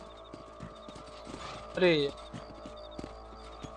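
Horses trotting in Red Dead Redemption, with steady rhythmic hoof clip-clops throughout at moderate volume, and a brief spoken exclamation near the middle.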